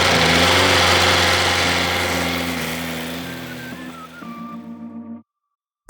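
After an oil service on a FastLane D motorcycle, its engine idles close by with a steady hum, then winds down and cuts off near the end, leaving brief silence before a short noise.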